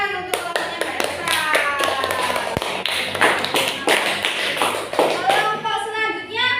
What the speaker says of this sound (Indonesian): Tepuk tangan untuk kelompoknya Mbak Elsa.